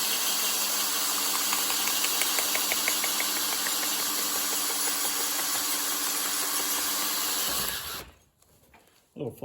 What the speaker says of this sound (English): Little flapping noise you're hearing is the rubber flipping around inside here.